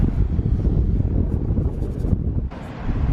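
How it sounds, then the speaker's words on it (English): Gusty wind near a shoreline buffets the microphone outdoors in a loud, low rumble, briefly easing before rushing back in. "It's getting windy."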